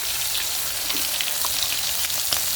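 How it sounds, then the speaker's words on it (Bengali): Meat dropped into hot oil for biryani, cooked outdoors on a rooftop, gives a steady bright sizzle and crackle throughout with a few sharper pops, fairly close and without talk. "দেখো এখন হচ্ছে এই যে মাংসটা দিয়ে দিচ্ছে"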